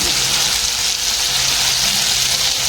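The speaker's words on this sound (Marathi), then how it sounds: "आपल्या चटणीला छान फोडणी दिली की चटणी खूप छान आणि सुरेख होते" Asafoetida and curry leaves sizzle in hot oil while tempering coconut chutney, an even, close, crackling fry that holds steady throughout.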